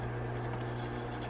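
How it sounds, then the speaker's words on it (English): Water poured from a tap or bottle into protein pancake mix, a steady trickling pour lasting about a second, close and moderately loud, with no talk. "And I always add water, usually 4 seconds worth of water since I added 4 scoops."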